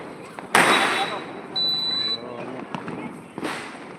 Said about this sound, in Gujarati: હમણાં બાળકો ફટાકડા ફોડે છે